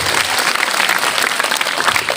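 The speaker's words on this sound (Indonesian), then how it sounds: "tepuk tangan untuk kita semua" Dense, continuous applause from a crowd, loud and steady throughout with no pauses.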